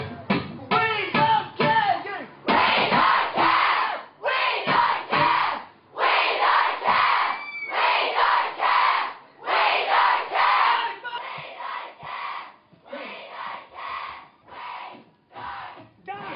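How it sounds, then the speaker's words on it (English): An Australian crowd shouts a short chant in unison, repeating it again and again as loud group bursts separated by brief pauses. "Right. So after me, you shout, we don't care."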